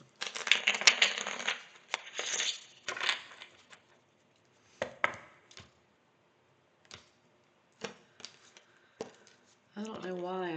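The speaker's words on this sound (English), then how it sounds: "I just cut these cards and shuffled after y'all" Tarot cards are cut and shuffled in close, crisp bursts of riffling and tapping, followed by scattered ticks and clicks from the deck, with a voice speaking briefly near the end.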